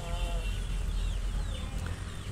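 Week-old chicks cheep and cluck steadily in a loud, dense flock, with thin chirps overlapping throughout and no talking.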